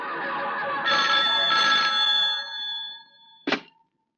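A telephone rings in a Hindi action film: two warbling electronic ring bursts sound close and fairly loud over a steady background hum, followed by a short sharp thunk as the line goes quiet.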